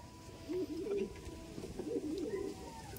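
Pigeons coo in a loft, soft rolling calls repeating twice in close succession over a steady low background hum.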